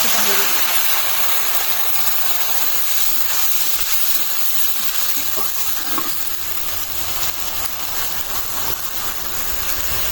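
Ginger garlic paste and spices fry in a pan as a steady hiss and sizzle, with occasional faint stirring and a brief voice.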